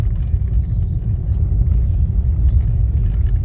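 Steady low rumble from inside a car driving on a slippery, snowy road in Finland in winter, a continuous droning engine and tyre noise with no talk over it.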